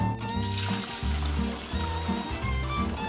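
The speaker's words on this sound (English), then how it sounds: "Take the inner pot and pour room temperature water to 1/3 of the pot." Room temperature water poured into the inner pot of an EasiYo yogurt maker, a steady close trickling stream with music playing underneath throughout.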